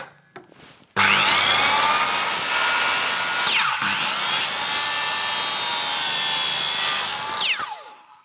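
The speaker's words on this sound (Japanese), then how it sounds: "外側の R も丸ノコでいきます。" A circular saw cuts the outer curve of a wooden spokeshave body, a loud sustained high whine through the wood lasting about seven seconds, starting abruptly and winding down at the end.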